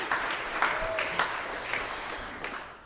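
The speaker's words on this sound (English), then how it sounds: "So again, we can clap for him." A church congregation at a Sunday service applauding, a steady wash of clapping from many hands that swells with a few louder peaks before slowly thinning out.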